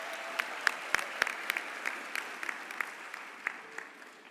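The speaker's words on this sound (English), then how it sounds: "Let us give our ladies a huge round of applause" An audience at a DUT spring graduation ceremony claps in sustained, dense applause with a few sharper individual claps standing out. It is moderately loud and steady, with no voices.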